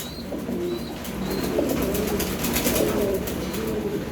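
Racing pigeons in a loft coo softly and repeatedly, low and murmuring, against a steady background hum with faint chirps above.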